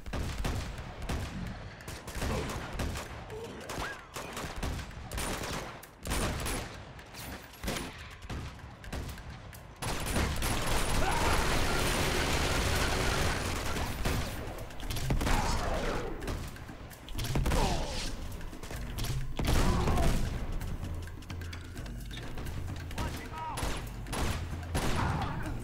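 Sustained gunfire from the video game Uncharted 2: Among Thieves, with dense bursts of shots and thuds running continuously over a busy game soundscape.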